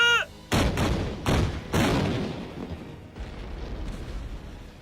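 Film scene of French cannon fire on Fort Henry: four heavy booms in quick succession, each with a long rumbling decay, following a brief shouted command, then lingering low rumble.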